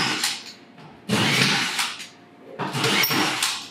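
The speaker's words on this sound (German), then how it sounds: "Ich habe hier den neuen Trockenbauschrauber der Firma Flex. DW45, 18 Volt, bürstenloser Motor." A Flex DW 45 18-volt brushless cordless drywall screwdriver runs in short bursts, its high whirring motor rising and stopping several times with ratcheting, grinding contact noise, close and fairly loud.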